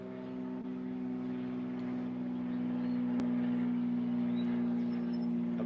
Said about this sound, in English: an airplane's flying over